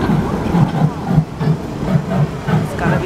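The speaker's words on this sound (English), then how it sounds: "Here's the train we're gonna ride." An Ecoland Resort forest train runs nearby on a cold day, giving a steady rumbling, hissing rail noise with a rhythmic low chugging pulse throughout.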